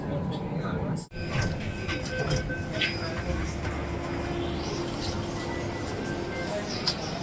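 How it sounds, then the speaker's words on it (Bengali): A Delhi Metro train running, giving a steady, low rolling rumble with a brief dip near the start, while someone talks over it. "দিল্লিতে ট্রাভেল করার জন্য কিন্তু মেট্রোটাই বেস্ট।"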